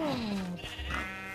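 A blocky sheep in the video game Minecraft gives a clear, close bleat that wavers and slides downward, with a low rumble underneath and no talking.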